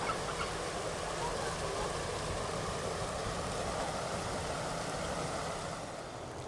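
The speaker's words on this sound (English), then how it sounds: "There's the geese that are normally running around on the lawn." Geese honk and call continuously from a flock by a brook in Dawlish, fairly loud and steady, with a broad outdoor wash of background noise.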